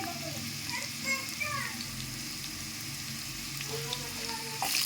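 Cumin seeds fry in oil with a constant low sizzle, while faint background voices, including a child's, murmur underneath and a brief clatter comes at the end.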